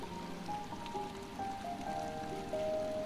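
Water rushes and splashes steadily inside a waterfall cave in the Hollow Knight video game, a dense continuous wash with faint tonal game music drifting above it.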